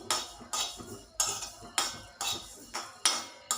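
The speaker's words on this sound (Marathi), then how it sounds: "तीळ घालायचं हे देखील भाजून घेऊया" Sesame seeds dry-roast with cumin in a pan, a spatula scraping and knocking against the metal in regular strokes about every half second, close and fairly quiet.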